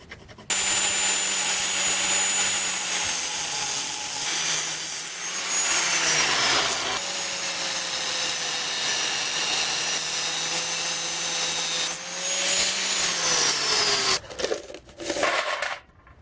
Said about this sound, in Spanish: lo que voy a hacer es cortar unos cañitos que van a ser el tubo por los cuales voy a pasar una varilla roscada